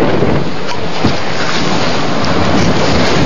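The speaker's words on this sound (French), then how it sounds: "Le vent est monté jusqu'à 50 nœuds presque" Strong wind of nearly 50 knots roars over a yacht at sea during the Vendée Globe solo round-the-world race, a loud, unbroken rush with buffeting microphone noise and sea wash, no voices.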